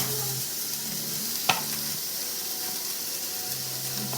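Ground beef and chopped bacon cook in a pot for chili, giving a steady broad sizzle with stirring scrapes and one sharp clink of a utensil against the pot partway through, with no voices.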